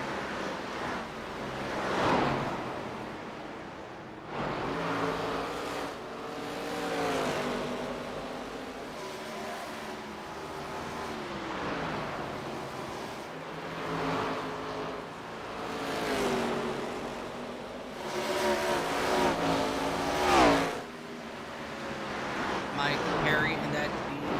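Stock race cars circling the asphalt short track at Oswego Speedway, engines rising and fading in repeated passes under steady wind-like roar, with a commentator talking over the field throughout.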